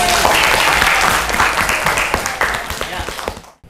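A classroom of students applauds, a burst of dense clapping that thins out and stops abruptly near the end.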